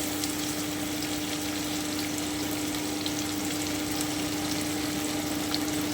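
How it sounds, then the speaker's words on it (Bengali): Sliced onions fry in hot oil in a pan, browning lightly for chicken vindaloo, giving a steady, close, even sizzle that runs on without pause and with no voices. "এবারে আমি জন্য পেঁয়াজটা দিয়ে দিচ্ছি আমি হালকা ব্রাউন করে ভেজে নিচ্ছি"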